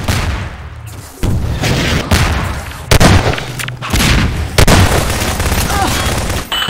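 RPG rocket fire and explosions in a Half-Life 2 Deathmatch match, loud booming blasts and gunfire repeating in dense succession, with a player talking over the action.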